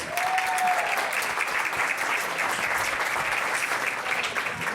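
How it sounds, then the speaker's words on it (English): Steady, dense applause from a forum audience honoring an event organizer, sustained evenly throughout with a brief whistle-like tone near the start. "Let's give Allison a round of applause."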